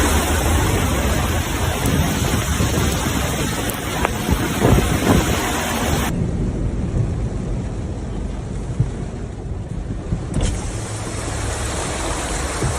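Heavy rain roars down in a fierce Brooklyn thunderstorm that floods the streets: a dense, unbroken wash of loud downpour and wind buffeting the microphone, with dull rumbles mixed in and a sudden drop in the hiss partway through.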